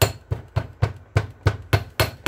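Hammer blows striking a small hydraulic cylinder part from a Case Ingersoll tractor during a rebuild, nine sharp metallic hits at a steady rhythm, close and loud with no talking.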